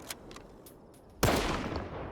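A single loud gunshot in the video game S.T.A.L.K.E.R. 2 bursts out after a quiet stretch of faint clicks, followed by a long rumbling tail.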